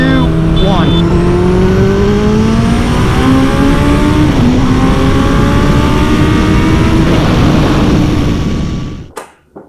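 A Suzuki Hayabusa sport motorcycle roars and accelerates hard with rising revs and gear shifts, loud and close, then cuts off abruptly at the end.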